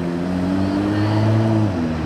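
A V6 sports car engine revs up steadily with a rising, rumbling tone, holding loud for about two seconds before easing back, in Monaco.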